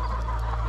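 Free-range Lohmann Sandy chickens give a short, steady murmur of fowl sounds, close and moderately loud, with no talking.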